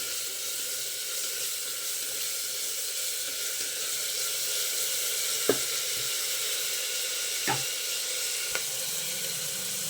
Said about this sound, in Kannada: ನೋಡಿ, ಫ್ರೈ ಆಗ್ತಾ ಇದೆ. ಈ ಥರ ಫ್ರೈ ಆಗಲಿ ಚೆನ್ನಾಗಿ.